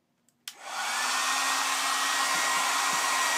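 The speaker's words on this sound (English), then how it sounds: "I gotta turn on the blow dryer." A blow dryer switches on after a brief click and runs steadily and loudly, a continuous broadband whoosh with a faint motor whine, close by and alone.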